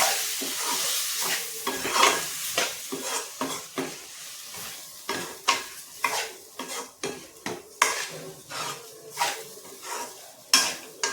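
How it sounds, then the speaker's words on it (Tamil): Chili powder and spices are stirred in oil over a low flame for a Chettinad-style chicken gravy, with repeated metal spoon scrapes and clinks against the pan over a soft sizzle. "லோ ஃப்ளேமில் வச்சு அந்த எண்ணெயிலே 1 நிமிஷம் அப்படியே கிண்டி விட்டுக்கிறேன்."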